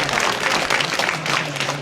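Audience applause at a Hindi-language community gathering, a short, loud, continuous burst of many hands clapping.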